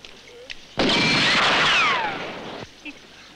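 A sudden loud burst of gunfire from a Western film, with a long crackling, echoing tail lasting about two seconds, set against quiet background noise.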